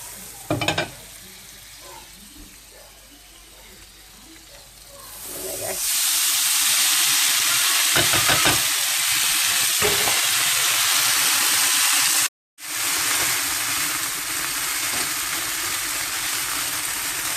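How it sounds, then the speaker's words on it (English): Noodles fry in a teaspoon of hot butter in a frying pan, starting as a quiet background and swelling into a loud, steady sizzle and hiss that fills the rest of the clip. "Start frying up these noodles."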